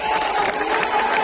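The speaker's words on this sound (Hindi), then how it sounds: "सभी एक बार जोर से तालियां बताओ" Political rally crowd applauding and cheering in a steady, loud roar of clapping and voices, with no distinct speech.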